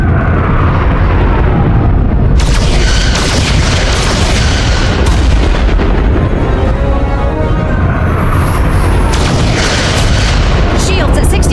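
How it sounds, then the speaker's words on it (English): Photon torpedoes firing in the Star Trek: Resurgence game, heavy booming blasts over a dense, continuous wash of loud combat noise that never lets up. "Fire photon torpedoes!"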